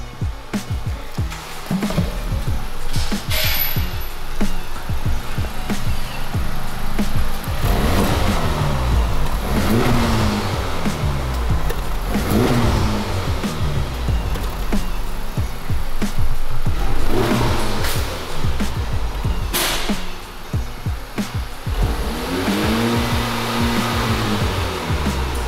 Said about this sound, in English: All right, so this is with the stock exhaust.